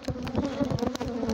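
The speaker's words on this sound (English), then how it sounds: "Ooh, this hive is definitely aggressive." Aggressive Africanized honey bees buzzing around close by, a dense, fluctuating swarm drone with individual bees passing near, heard alone.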